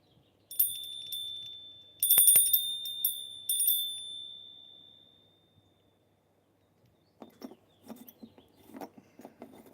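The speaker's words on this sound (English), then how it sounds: "It even has a little crack, just like all of us." A small bell with a little crack rings in three short bright bursts, the last tone fading out slowly, followed by faint rustling and handling noises.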